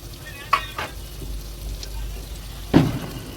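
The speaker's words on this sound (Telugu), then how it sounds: "వేసి బాగా కలబెట్టాలి." A ladle stirs goat paya curry in a pot after a handful of mint goes in, giving a few soft scraping strokes over a steady low simmer, with two clearer stirring bursts.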